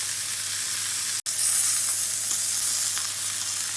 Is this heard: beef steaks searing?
yes